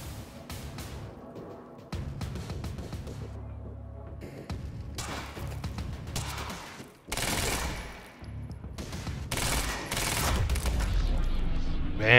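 Gunfire in the game Quantum Break arrives in repeated bursts of loud automatic shots, with pauses and scattered impacts between volleys and some faint speech in the mix.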